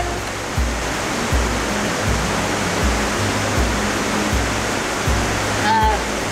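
A waterfall roars steadily beside a mountain campsite, a broad, constant rush with faint low tones pulsing underneath and a brief high sound near the end.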